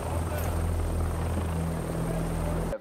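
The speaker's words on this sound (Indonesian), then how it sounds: "sebuah helikopter yang membawa George mendarat di penjara Sweetwater" A helicopter lands at Sweetwater prison, its steady rotor thump and engine drone loud and continuous throughout with no break.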